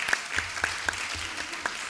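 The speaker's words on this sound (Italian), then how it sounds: "Grazie, un applauso." Audience applause at a Belt and Road forum on Italy–China business cooperation, a moderate patter of hands with a few sharper individual claps standing out, fairly close.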